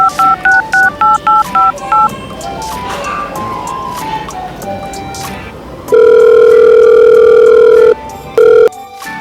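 A phone being dialed sounds a quick, even series of loud paired keypad tones, followed by a long steady ringback or dial tone and one short final beep, with faint background sound in between.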